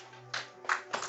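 A few claps from a church congregation during a Sunday service, brief separate bursts of handclapping over a low room hum.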